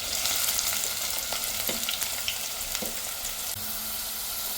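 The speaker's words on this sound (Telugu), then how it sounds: "నేను 2 లవంగాలు వేసుకుంటున్నాను, ఒక 1/2 ఇంచు చెక్క, ఒక ఇలాచి, 2 మీడియం సైజ్ ఆనియన్స్ కట్ చేసి వేసుకుంటున్నాను." Chopped medium onions frying in a pot with two cloves, a half-inch piece of cinnamon and a cardamom pod, giving a dense, loud, continuous sizzle up close, broken by a few soft stirring knocks, with no voices.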